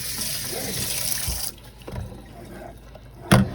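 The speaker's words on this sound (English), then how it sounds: "Wash this off one more time with real hot water." Hot water splashes from a tap for about a second and a half, then stops, followed by a few quiet knocks and a sharp clatter near the end.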